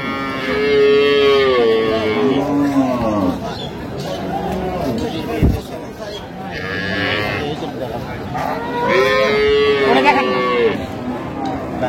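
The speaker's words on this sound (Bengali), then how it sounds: "গাভী বাছুর আমরা দেখছিলাম এখানে।" Cows and calves mooing at a busy rural cattle market in Dinajpur, several drawn-out, tonal moos close by, heard over a constant murmur of crowd chatter and voices.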